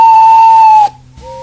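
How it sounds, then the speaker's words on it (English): A steam locomotive's whistle sounds loud and steady for nearly a second, then cuts off, leaving a brief quiet before a fainter tone returns. "Presently, he heard a whistle."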